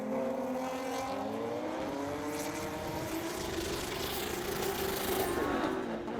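Drift car engines rev hard at a French drift championship round, with a loud, continuous, wavering roar and rising and falling pitch as the cars battle through a transition.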